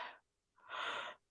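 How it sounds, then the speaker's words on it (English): A person yawns: a short breathy intake, a pause, then a longer open exhale, close and fairly soft. "Oh no, and the yawning begins."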